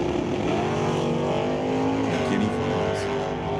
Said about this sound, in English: Rick McKinney with his 96 Camaro